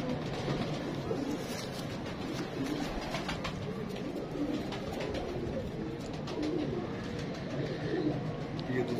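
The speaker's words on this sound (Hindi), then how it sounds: "ये देखें दोस्तों माशाल्लाह सिंदूरी पलक में शानदार कबूतर माशाल्लाह" Soft, low pigeon cooing repeats over a constant noisy background, with a rumble like distant traffic throughout.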